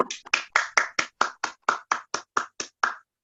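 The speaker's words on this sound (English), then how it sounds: "Let's give us a round of applause." Applause at an online Toastmasters meeting comes as about a dozen separate, evenly spaced hand claps over three seconds. They are fairly close and crisp, like one person clapping alone into a microphone.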